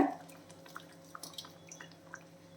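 Tamarind water poured into simmering sambar in a home kitchen, heard as a brief splash and then scattered soft drips and small trickles, faint and close.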